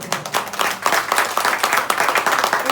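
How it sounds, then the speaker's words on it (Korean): Church congregation clapping together during a Sunday worship service, a steady dense wash of applause from many hands with no talk over it. "박수가 나와요?"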